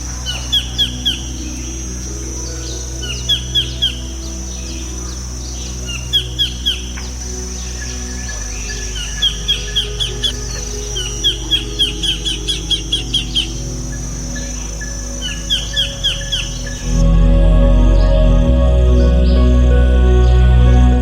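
Repeated bursts of sharp, rapid chirping calls from a mangrove kingfisher in mangroves in Chumphon, Thailand, recurring in clusters over a steady background of insects and distant ambience.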